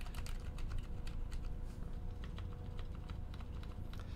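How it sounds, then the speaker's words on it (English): A mechanical keyboard with silent switches and artisan keycaps is typed on continuously, producing soft, quiet, rapid clacks of keycaps bottoming out at close range, with no voices. "it is the keycaps hitting the top of the switches. Yeah, that's the noise that you hear"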